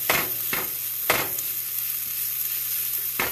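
Food frying in a pan over medium heat on a gas stove, giving a continuous close sizzle punctuated by several sharp scraping stirs at uneven intervals.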